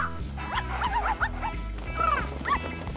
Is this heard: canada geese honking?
no